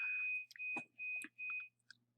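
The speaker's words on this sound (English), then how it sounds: "please ignore the beeping" Laundry machine beeping: a steady high electronic tone sounding in four long pulses with short gaps, quiet and alone in a hushed room.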